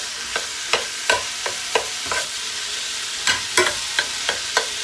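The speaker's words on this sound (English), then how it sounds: "You want to hear that nice sizzle." Ground beef sizzles in vegetable oil in a hot pan with a steady frying hiss, broken by sharp scrapes and clacks as a utensil breaks up the meat.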